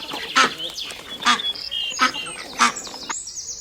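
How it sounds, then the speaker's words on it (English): A duck gives a series of about four short, nasal quacks spaced irregularly, with some high bird chirps and background noise between calls. "duck,"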